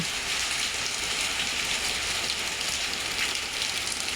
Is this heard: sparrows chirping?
no